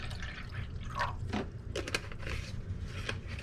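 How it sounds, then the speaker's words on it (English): Water pours and splashes into a pot, a steady trickling fill with a few clinks and bubbling gurgles, close up and without talk. "I'm going to add about an inch of water."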